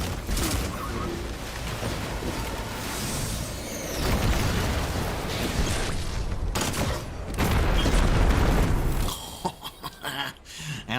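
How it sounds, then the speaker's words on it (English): Explosions in the video game Destiny 2: Lightfall, a dense run of loud booms and crackling blasts layered over the soundtrack, swelling twice before breaking into scattered bursts near the end. "Big explosion go boom."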